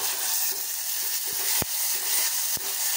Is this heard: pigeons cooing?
no